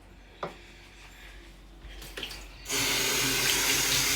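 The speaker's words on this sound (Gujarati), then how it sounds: "જરાક પાણી મૂકું" A kitchen tap turns on after a few faint clinks and knocks, then water gushes steadily and loudly into the sink.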